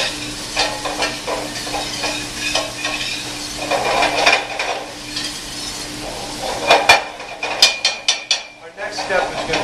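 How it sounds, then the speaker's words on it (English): Diced onion sweats in a soup pot while a utensil stirs and scrapes against the metal, giving a soft continuous sizzle under irregular close clinks and scrapes that grow sharper near the end. "we're going to add the onion we've already diced. And we're going to sweat this for about 2 minutes or so"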